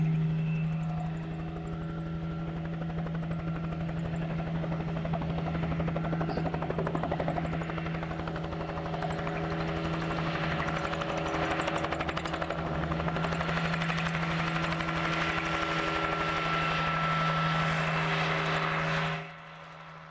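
A helicopter's steady rotor thrum and engine drone, loud and continuous, cutting off sharply at the end, as it chases wild horses during a roundup.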